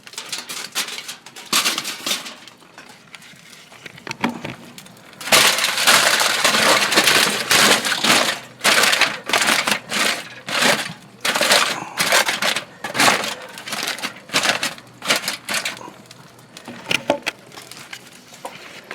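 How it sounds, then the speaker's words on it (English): Aluminium foil crinkles and crumples as it is pressed over meat cooking in an offset smoker, coming in repeated close, loud bursts of crackling with short pauses between them. "I'm going to cover it with foil."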